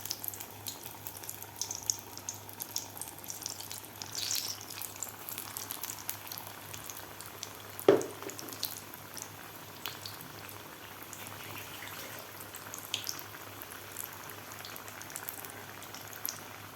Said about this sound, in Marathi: तेल आपलं व्यवस्थित गरम झालेलं आहे तर यामध्ये आपल्याला आता ही पिठामध्ये बुडवून घेतलेली मिरची व्यवस्थित सोडायची आहे